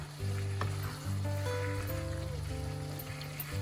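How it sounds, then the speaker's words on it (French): Swiss chard seasoned with salt and cumin sizzling in a pan while being stirred, a close steady frying hiss with soft stirring sounds over a low, steady hum. "On mélange encore et on va laisser réduire"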